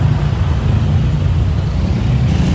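Scooters and motorbikes sit revving their engines in a hot Balinese traffic jam, making a loud, steady, close low rumble that drones on without a break and with no talk.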